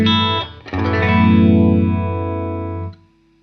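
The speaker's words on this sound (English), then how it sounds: "let's say I just want to turn on a phaser" A sustained distorted electric guitar chord sweeps through a swirling phaser effect switched via a GigRig G3, loud and close, then cuts off abruptly.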